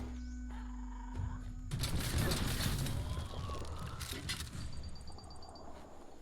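Explosions and mortar fire boom in the video game Biomutant, a dense burst of blasts and rumbling impacts that rises suddenly and then settles into a continuing roar with quieter game sounds at the end.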